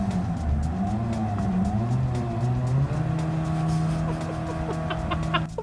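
A hybrid car with a CVT driven in Gran Turismo 7 gives a steady, droning engine note that holds level with small pitch shifts as the throttle lifts, alone with no talk.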